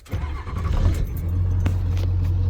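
A Ford OBS pickup truck engine idles steadily up close, a low continuous rumble after tilt steering column bearings were replaced, with a brief rev early on and no talk.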